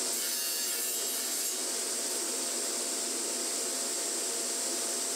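Hand saw cutting through a planed wooden board to size, a steady continuous rasping stroke close up, unbroken for several seconds with no voices.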